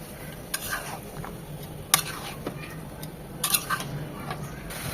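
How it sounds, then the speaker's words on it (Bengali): Beef pieces stir-fried in hot oil over high heat for a bhuna kadai, with scattered clinks and scrapes of a utensil against the pan over a low sizzle, close by and moderately loud. "মাংসটাকেও 7 থেকে 8 মিনিট এই তেলের মধ্যে একটু ভেজে নেব"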